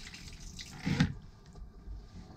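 Pedal-operated toilet in a 2020 Coachmen Spirit RV flushing, a brief rushing gush of water near the one-second mark that fades into quiet trickling.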